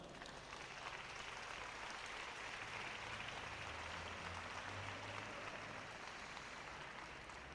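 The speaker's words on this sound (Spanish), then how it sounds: "Dele un aplauso al Señor." A church congregation applauds during an apostle's sermon, a steady, even wash of clapping from a large crowd that holds at a constant level, somewhat distant and without voices rising over it.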